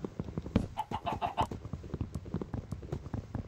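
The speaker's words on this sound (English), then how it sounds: "Also, I hear chickens." Minecraft chickens cluck in short, repeated bursts over a steady rhythmic clopping of footsteps, fairly close and moderately quiet.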